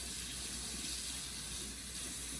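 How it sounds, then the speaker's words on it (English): Hot water pours steadily from a tap or kettle onto packed fat in a measuring cup, a continuous close hissing splash with no talking over it. "I want to take hot water,"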